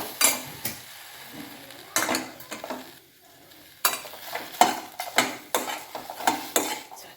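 Okra palya being stirred with a ladle in a metal pan, giving repeated scraping clinks and scrapes with soft sizzling between strokes, close and fairly loud, no talking.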